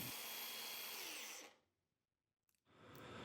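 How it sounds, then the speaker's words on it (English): A power drill boring a hole through a soldering iron tip, a steady high whir that stops abruptly, then a short pause and a brief restart. "I wanted to drill a hole all the way through the tip"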